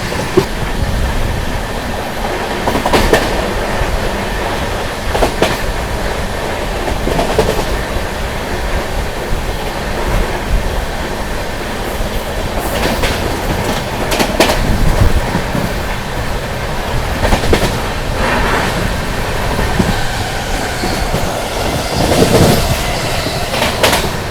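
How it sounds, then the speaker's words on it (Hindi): A Korba–Thiruvananthapuram North superfast express rushes past on the adjacent track while another train is moving, a loud steady roar of wheels with rhythmic clickety-clack over rail joints throughout, no voices. "इसी के पीछे पीछे एक और गाड़ी आ रही है, जो कि आप लोगों की कोरबा से चलकर तिरुवनंतपुरम नॉर्थ की ओर जाने वाली सुपर फास्ट एक्सप्रेस।"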